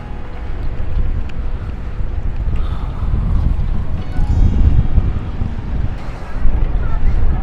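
Gusty cold sea wind buffeting the microphone in low, rumbling bursts on a walkway built out into the sea in Busan, with an open, sea-like wash in the background.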